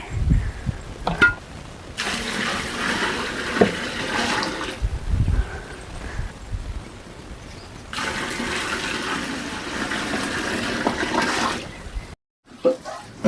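Water poured by the vessel into a cooking pot of soaked rice in a village kitchen, a steady gushing splash in two long pours broken by short pauses and faint background sounds.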